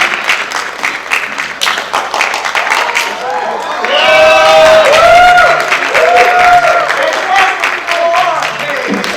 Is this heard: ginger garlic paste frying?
no